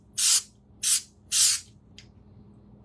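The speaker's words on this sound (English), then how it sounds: "That's how quick and easy the spray is." Foil adhesive sprays from an aerosol can in three short, close hissing bursts, then a brief faint fourth puff, with quiet pauses between.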